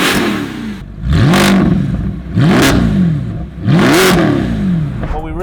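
A Mercedes SLS Black Series with a Capristo valved exhaust, valves open, revved three times in succession: each rev rises sharply into a loud, deep, throaty roar and then falls back to a burbling idle, heard up close.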